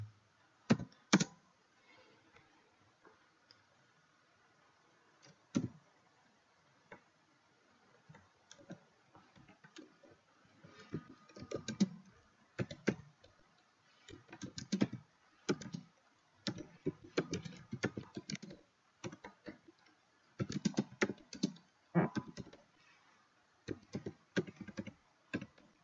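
Keys clack on a computer keyboard while typing Urdu in MS Word, close and quiet, coming in irregular bursts of quick taps separated by short pauses.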